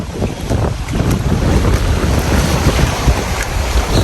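Strong wind buffets the microphone by the sea near a Hong Kong waterfall, a loud, continuous roaring gust with surf-like wash underneath and no talking.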